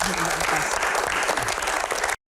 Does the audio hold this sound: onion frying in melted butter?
no